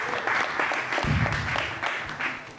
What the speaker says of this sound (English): Let's give a big round of applause for her too